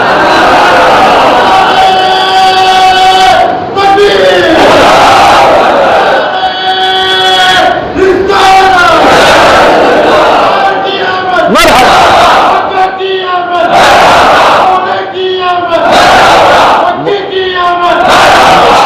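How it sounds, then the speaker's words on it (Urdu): A mosque congregation loudly chants religious slogans in celebration of the Prophet's arrival, a large crowd voice rising in repeated rhythmic bursts with brief pauses between, near and loud throughout. "اتنی زور سے نعرے لگائیں کہ اس ماحول کو پتہ چلے"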